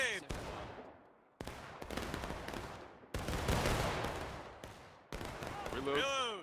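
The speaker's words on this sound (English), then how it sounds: "They're shooting at us from the corner of this barn here, and inside of the barn." Musket volleys in the Civil War battle game War of Rights: about six sharp, loud shots or ragged bursts spaced over several seconds, each ringing out and fading, with a brief voice near the end.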